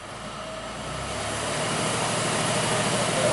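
A 1993 Buick V6 running steadily, then dropped into gear, its low engine drone rising gradually in loudness, no talk over it.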